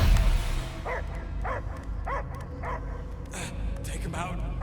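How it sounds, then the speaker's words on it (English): A dog barks several times in an even rhythm over a low rumbling background in Marvel's Guardians of the Galaxy video game, with a voice briefly joining near the end. "I hear only barking"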